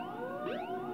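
Sirens in the video game Sonic Adventure DX wail faintly, with rising and falling tones sweeping through the brief moment over a steady game background and no talk.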